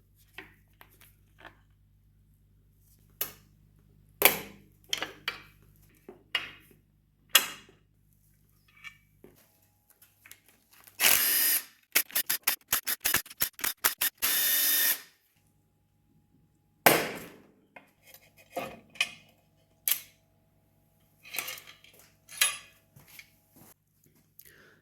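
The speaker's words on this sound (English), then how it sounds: "Before removing this timing cover, we're going to remove this timing chain tensioner." A 19 mm socket on a ratchet works loose the timing chain tensioner of a BMW S62 V8 in an E46 swap: scattered metallic clicks and knocks, then a rapid burst of ratchet clicking, then more sporadic taps, close up.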